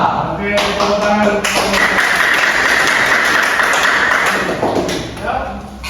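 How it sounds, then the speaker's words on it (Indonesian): A class of students claps hands together in a classroom, a loud dense burst of clapping that holds for several seconds before tapering off, with voices mixed in. "Oke, tepuk tangan."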